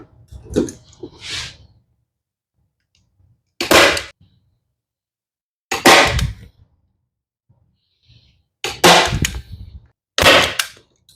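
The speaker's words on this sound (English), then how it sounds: "And staple it all the way around." Staple gun firing new upholstery onto bar stool tops, five sharp loud snaps spaced a second or two apart with silence between, the first a quick double burst.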